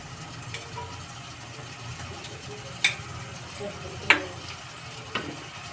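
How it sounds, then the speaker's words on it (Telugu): Prawn curry with ginger garlic paste stirring in a frying pan, a low steady sizzle broken by a few sharp utensil scrapes and clinks against the pan. "ఇప్పుడైతే బాగా మిక్స్ చేద్దాం."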